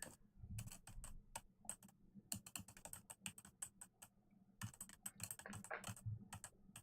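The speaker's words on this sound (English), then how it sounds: "The only sound in the room was of Daru's fingers on the keys." Fast, irregular keystrokes on a computer keyboard in the Steins;Gate 0 game, crisp clicks in quick bursts with short pauses between them, close and fairly quiet with no voices over them.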